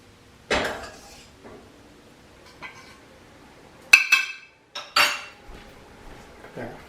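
Spoon clinks and scrapes as tomato sauce made from plum tomatoes is spooned into a baking dish for eggplant rollatini, a few distinct clatters of utensil on dish with quiet gaps between.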